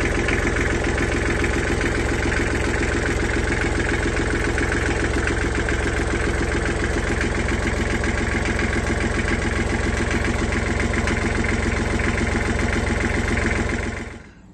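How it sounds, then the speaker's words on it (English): An old, tired 56ft narrowboat engine runs at a steady idle, a loud, constant low rumble with a regular knocking pulse that continues unbroken before cutting off abruptly at the very end. "We'll start the engine up in a minute."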